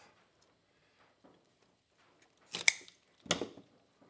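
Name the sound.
cutting thick plant roots while repotting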